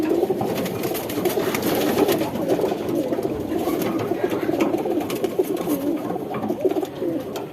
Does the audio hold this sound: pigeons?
yes